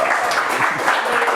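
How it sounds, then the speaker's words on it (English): Loud, close applause at a weekly startup meetup, a short dense burst of many hands clapping together with no gaps for over a second. "give him a round of applause."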